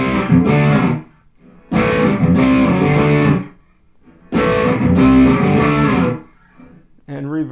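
Electric guitar run through a budget boost pedal with delay added, played in three loud strummed bursts with pauses between, the repeats trailing briefly after each, ending on a short plucked phrase.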